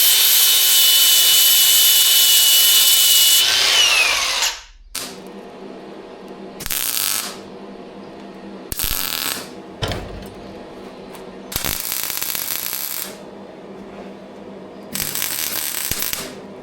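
Welding a small dot of weld onto an old sower spinner: a long steady hiss, then several short crackling bursts separated by quiet pauses.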